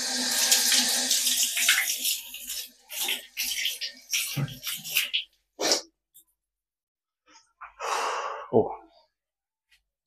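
Running tap water while a bathroom is washed, splashing and gushing in uneven bursts that stop and restart, with someone talking and sighing between the pours.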